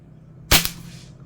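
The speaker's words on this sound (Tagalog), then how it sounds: "So try again, firing." A single sharp rifle shot fired at a target while sighting in on hold-over and hold-under aim, loud and close, with a short decaying tail and no talk.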